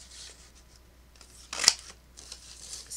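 Scissors cutting a piece out of solid cardstock for a greeting card, a few faint close snips and one louder, crisp cut in the middle.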